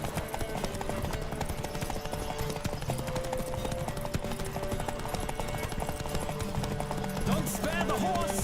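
Rapid hoofbeats of a galloping horse in The Witcher 3: Wild Hunt pound in a steady rhythm, close and loud, layered with music and a snort or whinny near the end.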